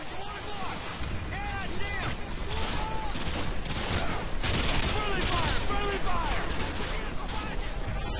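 Rapid, dense automatic rifle fire in Call of Duty Modern Warfare, continuous bursts crackling over wind-like noise, with voices talking throughout.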